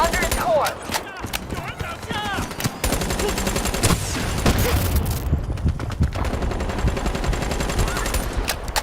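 Weapon gunfire in Call of Duty Black Ops 3, loud bursts of rapid automatic fire and shots mixed with explosive impacts and game effects, continuing throughout with some voice underneath.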